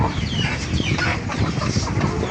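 Several chickens cluck busily and continuously close by, overlapping calls forming a dense barnyard chatter.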